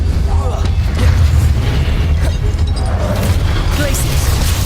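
A Confringo spell explodes in Hogwarts Legacy with a dense low rumbling boom that rolls on continuously, with crackling bursts and other game sounds layered over it throughout.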